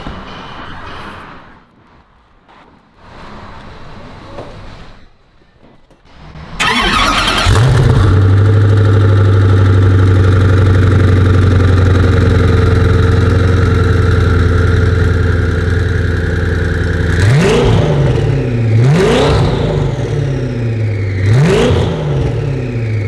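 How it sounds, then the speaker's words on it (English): After a quiet few seconds, the 1,140 brake horsepower engine of a Koenigsegg Agera N hypercar fires up with a loud roar, settles into a deep idle, then revs sharply three times near the end. "Now I'm going to get in the Koenigsegg Agera N and fire up this"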